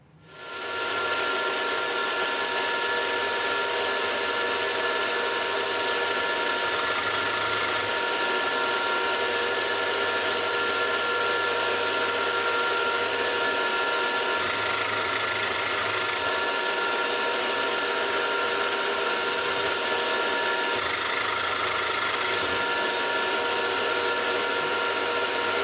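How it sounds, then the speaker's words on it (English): A milling machine drills a hole straight through the centre of a metal knurling tool part, giving a steady whirring, grinding hum that runs without break and without any talking. "All I need to do is drill a hole straight through the centre and tap it."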